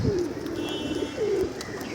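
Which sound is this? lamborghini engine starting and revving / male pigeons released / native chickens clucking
male pigeons released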